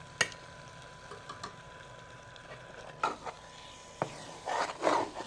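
A spoon stirs semolina and carrot halwa cooking in a pan, making intermittent scrapes and light taps. Several sharper knocks and a busier stretch of scraping come toward the end.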